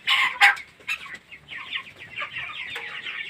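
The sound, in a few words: 33-day-old broiler chickens clucking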